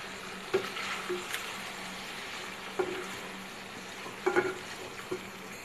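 Tomato, yogurt and whole spices being stirred together in a hot pan for chicken karahi, with a soft steady sizzle and a few spoon scrapes and clinks spread across the mix.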